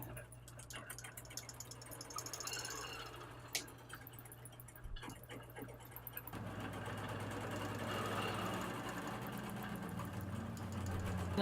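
A Bernina longarm quilting machine stitches along a quilt row with a quiet, rapid mechanical hum and ticking needle rhythm, joined by a few soft clicks and a louder, fuller motor drone in the second half.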